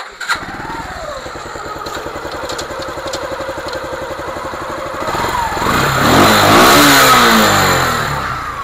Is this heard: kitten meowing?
no